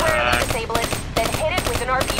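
Rapid automatic weapon fire from Call of Duty: Black Ops III, with bursts of loud, close shots rattling in quick succession and brief gaps between them.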